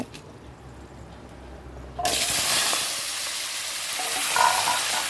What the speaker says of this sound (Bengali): এবারে আলুটা দিয়ে দেবো আলুটা একটুখানি ভাজা করব